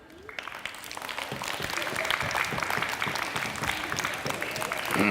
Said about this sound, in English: So maybe a round of applause for everybody